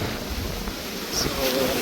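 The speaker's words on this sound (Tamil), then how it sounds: "என்ன தள்ளுது மக்களே அந்தளவுக்கு இருக்குது காற்று" Strong wind buffets the Jaffna coast after a storm, a dense, steady roar with surf mixed in, loud and close to the microphone, while a voice briefly cuts through near the end.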